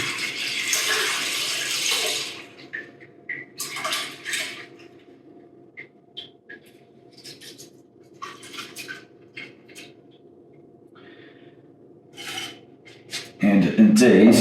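Homemade limoncello poured through a strainer to catch the lemon rinds: a splashing trickle of liquid at the start, then quieter intermittent drips and small clinks nearby, with a louder clatter at the end.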